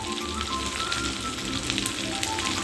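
Bottle gourd, potato, fish roe and prawns sautéing in hot oil, a dense continuous sizzle and crackle heard up close and alone.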